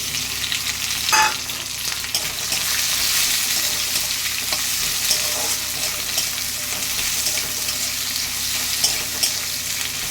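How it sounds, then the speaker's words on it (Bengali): Two chopped onions frying in oil with cumin in a kadai for a kachki fish chachchari give a steady, close sizzle, with a brief scraping stir clatter near the start and no voices. "পেঁয়াজগুলো আমার লাল লাল ভাজা হয়ে যাবে,"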